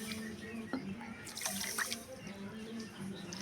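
Water is poured into a pot with sugar and cardamom to make syrup, a quiet, steady splashing stream with a few small knocks and no speech.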